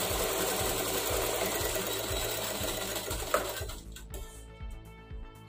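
A sewing machine runs steadily, stitching the side seams of a fabric face mask, its fast mechanical whir carrying for about four seconds before stopping and leaving a few softer clicks and handling sounds.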